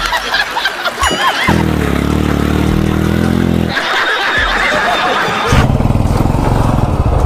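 A scooter engine idles and revs nearby in loud, rough bursts that stop and restart, with people talking excitedly over it.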